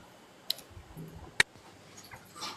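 A computer mouse gives two sharp, isolated clicks about a second apart, close and fairly quiet, against a soft room background.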